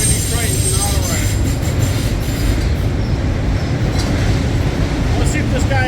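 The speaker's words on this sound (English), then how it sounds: "it's an auto rack train. They're all auto racks." A CN freight train of auto rack cars rolls steadily past nearby in Durand, a continuous rumble with clattering wheels and occasional faint squeals.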